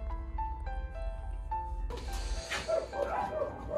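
Around twenty small rescued dogs in a bedroom, with soft yips and whimpers repeating at close range over a low hum, then a busier burst of mixed yelping.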